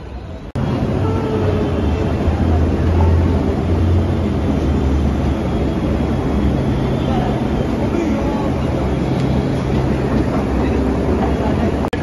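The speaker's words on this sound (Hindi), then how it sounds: "मेट्रो आ चुकी है, ये आप देख सकते हो।" A metro train arrives at a station with a loud, continuous rumble and whine that fills the whole stretch, steady from start to finish.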